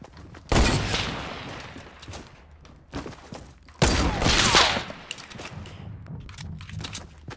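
Gunfire in the video game Fortnite during a sniper match: two loud, close bursts of rapid shots, separated by quieter rattles and scattered smaller pops.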